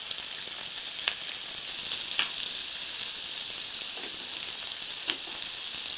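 Crushed garlic cloves dropped into hot oil in a pan while cooking rajma bhaji, giving a steady bright hiss with a few sharp crackles and pops, close and alone without talk.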